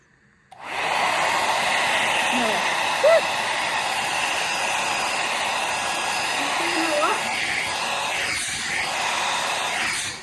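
A hair dryer blows a steady, loud stream of air across paint poured onto pastel coasters, starting abruptly and holding its whooshing hiss, with a faint voice briefly audible beneath.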